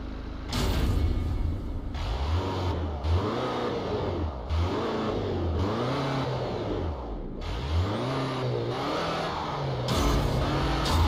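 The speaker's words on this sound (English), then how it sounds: "Tap to rev the engine." A car engine revs repeatedly in the drag racing video game Asphalt Street Storm, rising and falling in about six loud surging swells with brief pauses between, with no talk over it.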